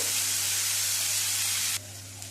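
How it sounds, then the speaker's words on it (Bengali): Onion paste frying in oil with black cumin and green chili gives a steady, close sizzling hiss that suddenly drops to a quieter simmer near the end, over a low constant hum, with no talk. "পেঁয়াজের পেস্টটাকে নেড়ে চেড়ে নেব।"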